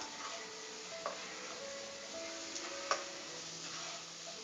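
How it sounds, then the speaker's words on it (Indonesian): Pumpkin (labu kuning) stir-frying briefly in a pan, a soft constant sizzle with a few light spatula taps and clicks, quiet and unaccompanied by voices. "Ini kita tumis sebentar."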